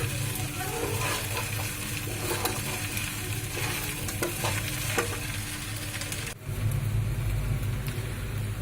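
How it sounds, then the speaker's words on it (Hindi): Sabudana khichdi being stirred in a hot pan, a loud, continuous close sizzle with steady scraping of the spoon throughout, briefly dipping once before resuming. "इसे अच्छी तरह से मिक्स करें। इसे अच्छी तरह से हिलाते रहें।"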